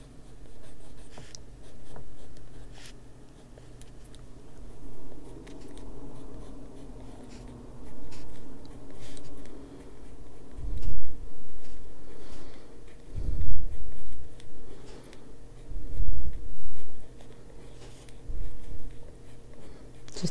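Colored pencil coloring a squirrel page in an adult coloring book: continuous soft scratchy strokes on paper, rising and falling in bursts, close and fairly quiet.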